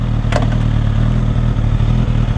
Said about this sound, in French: Et sans toucher à l'accélérateur, la moto démarre.